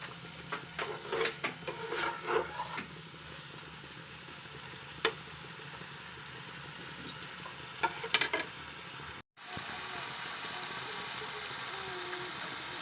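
Chicken pieces marinated with lemon and makhana being sautéed in oil in a kadai, with a steady sizzling, frying hiss and scattered stirring scrapes and clinks running throughout, close and alone, briefly cutting out near the end.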